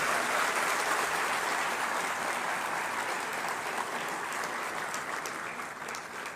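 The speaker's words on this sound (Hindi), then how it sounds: "तो आपकी दोहरी तालियां अपेक्षित हैं।" An audience at a government ceremony in Uttar Pradesh, where newly appointed ITI instructors receive appointment certificates, applauds in a dense, sustained roar of many hands that carries on for several seconds and eases slightly toward the end.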